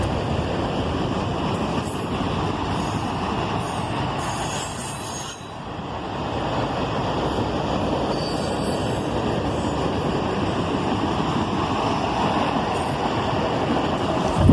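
A freight train with auto rack cars, one rack missing a side panel, rolls past on a line carrying BC Rail, Canadian Pacific and Canadian National power. Loud, steady rumble and clatter with high wheel squeal throughout, easing briefly midway.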